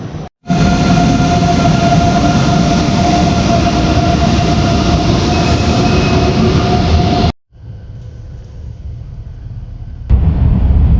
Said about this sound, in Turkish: Genelde Almanya'da ve Avrupa'da trenler bu şekilde arkadaşlar.